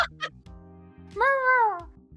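A synthetic AI voice imitates a cat with a drawn-out, rising and falling meow following a few short vocal sounds, close and clear.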